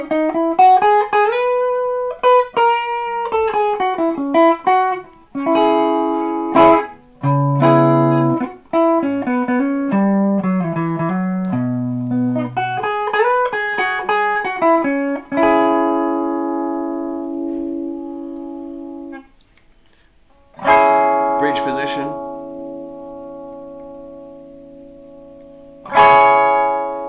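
An Epiphone Les Paul Standard Plus Top Pro electric guitar played through its neck pickup, with melodic single-note runs and sustained ringing chords, a clear, close tone with reverb tails and a few pauses between phrases.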